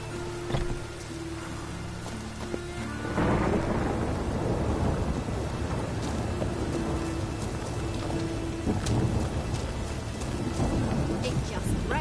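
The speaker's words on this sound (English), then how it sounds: "It's raining again." Heavy rain pours and a rolling rumble of thunder builds about three seconds in, then the downpour stays dense and close for the rest. Faint voices and music sit underneath.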